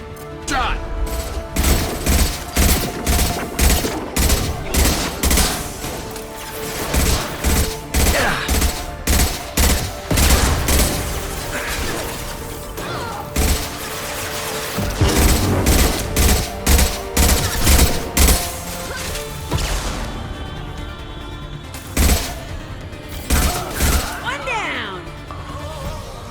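Gunfire from the Mass Effect video game: rapid bursts of loud, punchy shots in repeated volleys with heavy impacts and crashes, a high-impact round among them, with a voice talking under the battle noise.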